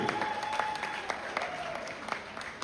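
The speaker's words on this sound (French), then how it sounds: "Messieurs, dames, encore une fois, applaudissons très fortement pour Monsieur Vali Poupa" An audience at a gala evening in a Hilton Hotel applauds steadily, a dense patter of many hands clapping with a few sharper claps standing out.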